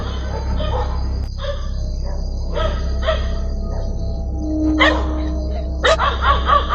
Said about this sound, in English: dogs barking loudly in the middle of the night